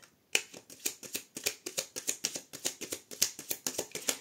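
Oracle cards are riffled and shuffled close up, a quick run of crisp rhythmic flicks and slaps after a brief silence, bright and steady, with no voices.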